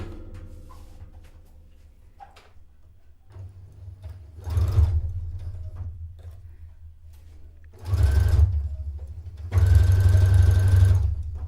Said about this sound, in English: we're going to do a stretch stitch. See if the sewing machine likes this.